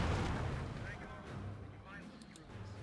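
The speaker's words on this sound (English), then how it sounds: "That pack howitzer seems very explosive." Pack howitzer artillery fire booms in a Company of Heroes 2 battle, heavy low blasts and rumbling explosions repeating under a constant din, with a voice talking over it.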